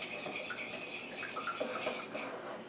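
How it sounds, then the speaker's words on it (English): Whisking one egg for orange cranberry bread, quick light metallic clinks and scrapes of a whisk against a bowl, repeated in a busy rhythm, close and fairly quiet. "I'm going to whisk that a little bit"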